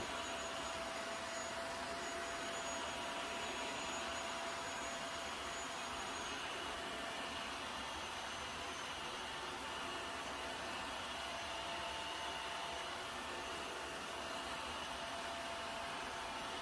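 A wet-and-dry vacuum cleaner whines in turbo mode as it works on a yogurt spill, a steady high-pitched hum that holds evenly throughout without talk.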